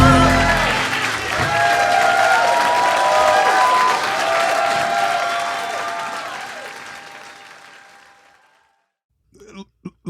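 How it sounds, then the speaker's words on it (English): Audience at a Broadway concert in Orlando applauds and cheers loudly after the opening number, a dense, sustained roar of clapping that gradually fades out, followed by a few brief scattered sounds near the end. "Listen to the applause, and that's just for the first number."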